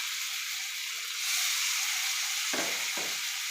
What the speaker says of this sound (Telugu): ఇప్పుడు మనం ఈ సొరకాయ ముక్కలు అలాగే క్యారెట్ ముక్కలను వేసుకున్నామండి.